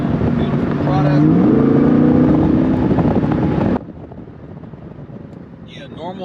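C8 Corvette accelerating hard off the line in sport mode with a throttle controller fitted, a loud rising engine note for about four seconds before dropping to a quieter cabin rumble and wind noise.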